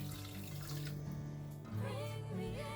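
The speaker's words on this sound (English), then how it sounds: "in your saucepan, you want to pour in the sugar and the verbena leaves and your 1 cup of water" Water runs steadily into a saucepan of sugar and lemon verbena leaves, a continuous splashing pour that rises in pitch as the pan fills, close and alone.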